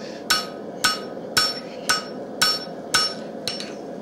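A hammer forging hot steel for a utility knife blade: seven sharp, ringing strikes fall at an even, brisk pace, close and loud, each with a bright metallic ring, the last one lighter.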